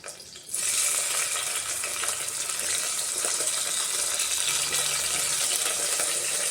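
Onion and green chillies frying with mustard seeds and cumin in hot oil, a steady loud hiss and crackle that starts abruptly and continues evenly close up.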